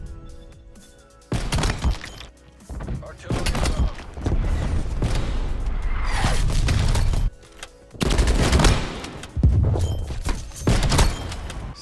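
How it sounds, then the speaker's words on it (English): Sniper and other gunfire in Black Ops Cold War: loud shots and crashing bursts come in several sustained stretches separated by brief quieter gaps. "Sniping feels just so incredible in this game, dude."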